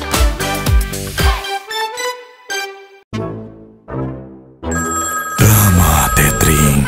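A telephone rings in a short advertisement, loud, melodic tones repeating in bursts and broken by brief gaps.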